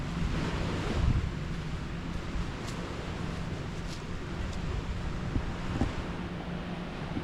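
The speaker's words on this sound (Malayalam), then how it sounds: "പക്ഷേ കടലിലെ സൗണ്ടൊക്കെ ഉണ്ടോ?" Sea waves roll in at a beach on Havelock Island as a steady, close, rushing surf mixed with wind buffeting the microphone. No one speaks.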